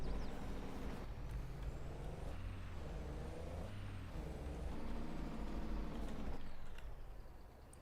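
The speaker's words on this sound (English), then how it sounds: "Need to get the truck out of the way first" A truck in Farming Simulator 22 rumbles along at a low, even engine drone with a brief air-brake-like hiss, quiet and continuous with no talking.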